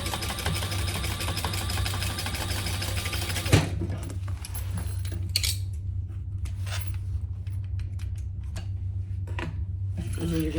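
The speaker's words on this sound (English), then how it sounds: "And then we're gonna top stitch. No different than any other gusset." A sewing machine topstitches a gusset on a bag, a fast, even mechanical whir for about three seconds that then stops, leaving a low background hum and faint handling noises.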